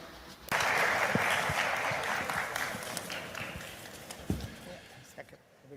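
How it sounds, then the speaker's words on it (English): A forum audience applauds India's External Affairs Minister, Jaishankar. Steady, moderately loud clapping starts abruptly and rolls on for several seconds with a few louder claps before it thins out. "We should give a round of applause to the Minister."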